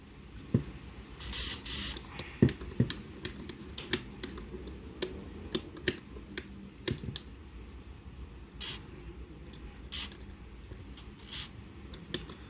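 Short hissing bursts of WD-40 spray hit an Xbox One controller joystick being fixed for drift, mixed with many sharp clicks and plastic taps from the stick and buttons, close and fairly quiet.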